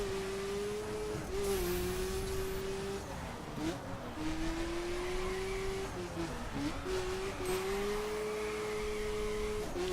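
A hot hatch in The Crew racing game revs hard on a circuit, its engine note climbing and dipping with gear changes and brief lifts of the throttle. The sound is loud and steady throughout.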